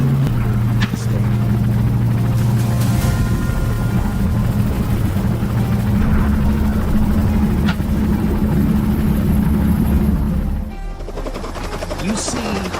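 Helicopter flying during a wild boar hunt, a loud steady rotor drone with low throbbing tones for about ten seconds, then dropping away abruptly into quieter noise near the end.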